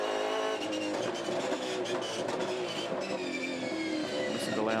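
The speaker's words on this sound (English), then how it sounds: "Listen to Lowndes off the hairpin." A Supercars race car roars hard out of a tight hairpin in second gear, engine note climbing and shifting, loud and close throughout.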